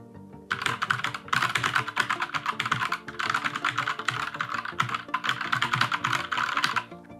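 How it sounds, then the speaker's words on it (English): Fast, steady typing on a mechanical gaming keyboard fitted with Gateron Yellow switches, close-up clacky keystrokes in three sustained bursts separated by brief pauses, with no voices. "And this is how the Gateron yellow keys sound."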